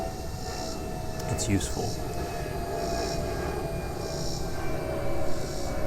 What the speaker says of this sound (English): Got an airplane overhead.